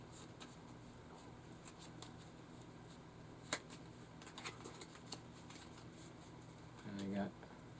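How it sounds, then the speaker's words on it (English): Playing cards being loosely mixed in a sloppy shuffle during a magic trick: faint, scattered soft riffling and sliding taps with a brief louder rustle near the end, at close range. "this is called the sloppy shuffle"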